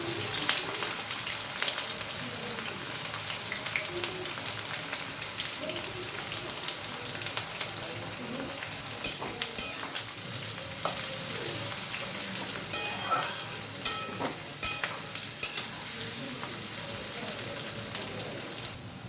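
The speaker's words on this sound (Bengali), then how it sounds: "এবার দিচ্ছি পেঁয়াজগুলো আমি লাল লাল করে ভেজে নেব।" Onions fry in oil with cardamom, cloves, cinnamon, a dried red chilli and bay leaves, giving a steady close sizzle with crackles, pops and occasional stirring scrapes, without speech.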